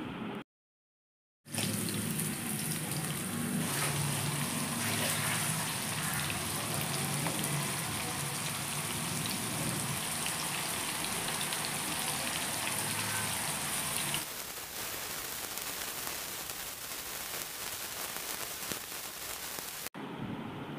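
Prawns hit four tablespoons of hot coconut oil and fry with a loud, dense, continuous sizzle that settles into a softer crackle toward the end, with no talk over it.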